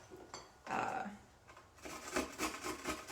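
Turmeric root rubbed against a grater in a home kitchen, giving a few short rasping scrapes, then a longer run of repeated close, brisk grating strokes.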